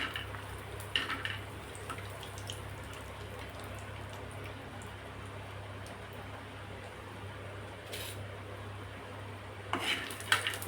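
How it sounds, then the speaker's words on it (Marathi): Peanuts roasting in a pan with spluttered mustard seeds and cumin, a faint steady sizzle with occasional scraping and clinks of a spoon stirring against the pan. "शेंगदाणे थोडेसे भाजून घ्यायचे।"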